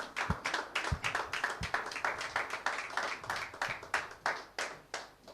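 An audience in a church claps their hands in a steady, fairly quick rhythm. The sound is continuous, dense and close, and no voices are heard over it.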